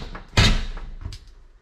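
A stuck kitchen door to the basement of a 1940 Tudor house is forced open, giving one loud scraping thump followed by a few softer rattles and knocks, close by and with no talking.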